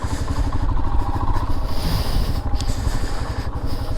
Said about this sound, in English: She's probably thinking that looks weird watching my motorcycle ride away